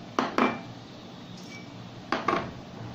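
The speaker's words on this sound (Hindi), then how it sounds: "अब जो मैंने यहाँ पे मेवे रखे थे इन्हें मैं मिक्स करूँगी आपस में" Nuts and dried fruits are stirred together in a metal dish for shahi tukray, giving two pairs of sharp clinks, one near the start and one about two seconds later, over a faint steady background.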